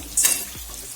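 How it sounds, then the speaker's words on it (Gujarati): Okra frying in a pan gives a steady, close sizzle, with a short burst of hissing louder near the start. "આ ભીંડાને 5 મિનિટ જેવું ચડવા દઈશું"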